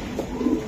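Racing pigeons coo in short, low, rolling murmurs, close by and fairly loud, with no talking over them.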